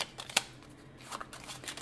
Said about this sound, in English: we'll give these cards a quick shuffle